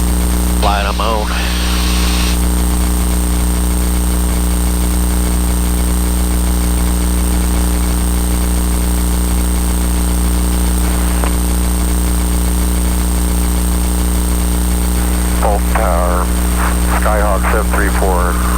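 A Cessna Skyhawk's engine drones loud and steady throughout the flight, a constant propeller hum. A pilot's voice and radio chatter cut in briefly at the start and near the end.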